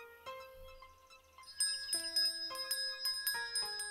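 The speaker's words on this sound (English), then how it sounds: "I heard his bell." Ice cream man's bell ringing in a cartoon, a series of bright metallic chimes that start sparse and then repeat in quicker clusters, clear and alone.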